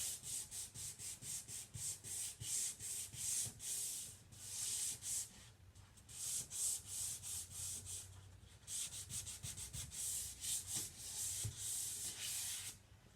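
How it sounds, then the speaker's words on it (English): A 220 grit sanding pad rubs back and forth over a painted stencil in quick, rhythmic strokes with brief pauses, soft and close, with no talk. "I'm just using a 220 grit sanding pad"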